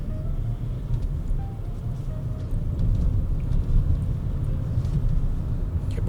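Leapmotor B10 electric car gently accelerating uphill on a narrow road in southern France, a steady low road and tyre rumble with faint hum throughout, swelling slightly louder partway through.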